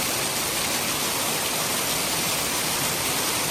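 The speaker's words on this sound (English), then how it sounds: "There's two waterfalls," Two waterfalls in the 100 Mile Wilderness pour steadily, making a dense, even broadband rush of falling water that stays constant and fairly close, with no voices over it.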